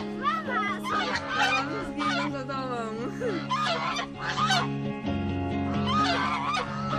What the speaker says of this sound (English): Beware of the domestic birds living near the ponds.